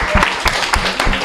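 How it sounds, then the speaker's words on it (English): An audience claps in a short burst of applause, with several distinct hand-clap peaks spread across the room, fairly close and steady throughout. "Can we give her a round of applause for that one?"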